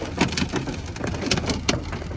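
Large hailstones falling, a dense patter of sharp, irregular impacts with a few louder cracks standing out, close by and continuous.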